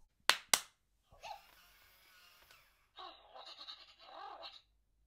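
Two sharp, loud hand claps close by, aimed at a Wowwee Mintid Dog-E interactive robot dog, followed by quieter electronic toy chirps and whirring tones from the robot itself.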